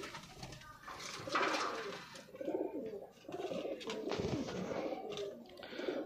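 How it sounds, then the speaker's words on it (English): High flyer pigeons cooing inside a cage in Attock, Punjab, soft layered coos and rustling close by, steady throughout, with a voice faintly heard underneath. "All of them are top quality pigeons, high flying top quality pigeons."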